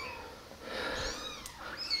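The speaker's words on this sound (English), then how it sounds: "Baby kitten." A tiny kitten gives a thin, high, drawn-out meow at close range, rising and falling, with a short faint squeak near the end over a quiet indoor background.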